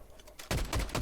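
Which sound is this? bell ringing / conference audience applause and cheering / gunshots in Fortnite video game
gunshots in Fortnite video game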